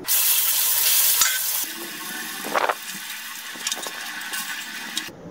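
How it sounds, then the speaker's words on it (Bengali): Bhola fish frying in hot oil, a steady broadband sizzle that is loud at first, then settles lower with occasional spits and pops, no voices. "বাকি মাছগুলো ভেজে নিচ্ছি"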